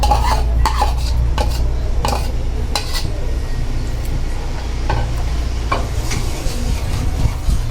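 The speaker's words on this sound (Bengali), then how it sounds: "এবার এই তেলের ভিতরে মশলাগুলো ভালোভাবে নাড়িয়ে নিচ্ছে।" Ground spice paste from a grinding stone is stirred in hot oil for an egg curry, with loud, close metal spoon scrapes and clinks against the pan over a low, constant sizzle.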